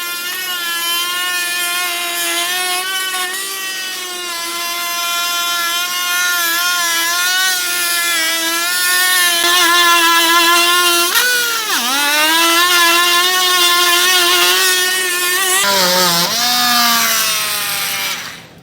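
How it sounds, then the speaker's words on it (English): An oscillating multi-tool trims off part of the bumper on a 2023 Chevrolet, giving a loud, steady, buzzing whine that runs for most of the clip, wavers in pitch, and stops abruptly near the end. "I'm going to use a multi-tool to trim this off"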